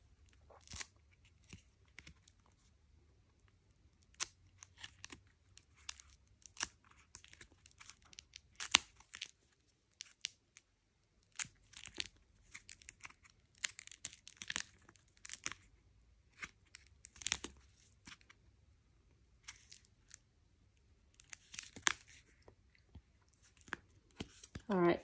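Pages of a photocard collect book holding plastic-sleeved cards are flipped one after another, giving repeated crinkly plastic rustles and flaps in irregular bursts, close and fairly quiet, with a voice speaking at times.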